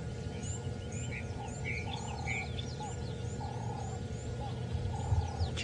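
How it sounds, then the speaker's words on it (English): Birds chirp and whistle at dawn on a sunrise safari drive, a chorus of short calls from several directions over a low rumbling hum, with faint background noise and no clear speech. "you can hear all the birds all starting to wake up now"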